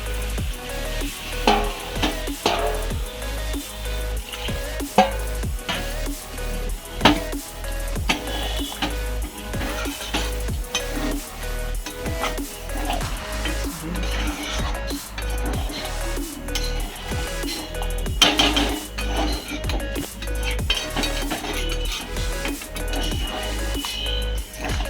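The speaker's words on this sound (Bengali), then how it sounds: "মশলার জলটা একটু করে দিয়ে দিয়ে কষবো।" Mutton curry sizzles and fries in a pan with spices as splashes of spice water are added, a steady crackling sizzle punctuated by regular stirring scrapes and clinks of a spatula, with no talking.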